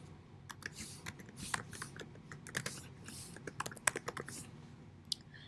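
Computer keyboard typing while entering restaurant text for a pop art food logo design, with irregular clusters of quick, light key clicks close to the mic and brief pauses between bursts.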